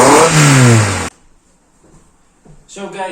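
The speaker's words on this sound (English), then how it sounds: "So, our engine is now start, we have let it idle for a little" A car engine revs hard, loud and close, during a home service ahead of a steering rack rebuild. After about a second the roar cuts off into near silence, then a short burst returns at the end.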